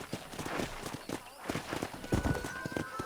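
Horse hooves clip-clopping in the video game Red Dead Redemption, a quick, uneven run of close, loud hoofbeats continuing throughout, with no talking over them.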